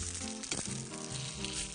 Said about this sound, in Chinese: 今次我採用咗巴西嘅牛柳， 要煎到幾多成熟到啊？